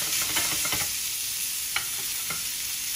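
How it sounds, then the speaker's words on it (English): An already-cooked sous vide London broil steak searing in a pan, giving a steady, fairly quiet sizzle with a few brief scrapes and clicks, no talking. "this is already cooked, so all we're doing really is putting a sear on it."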